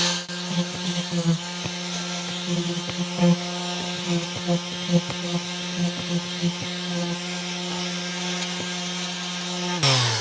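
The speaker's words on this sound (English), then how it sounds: "I think I'm gonna sand on these a bit. Just gonna get these rough edges off real quick." A sander smooths the rough edges off tongue-and-groove wood boards. It makes a steady droning motor hum with rhythmic scraping pulses, runs close and continuous for nearly the whole time and cuts off at the very end.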